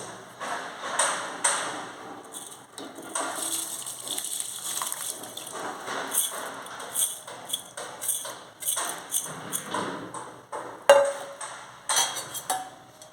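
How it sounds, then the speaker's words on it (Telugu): Rice is tipped into water in a pressure cooker pot for pea pulao, giving repeated close splashy gushes, soft thuds and metallic pings in uneven bursts. "దీంట్లో డైరెక్ట్గా రైస్ కూడా యాడ్ చేసేస్తానండి"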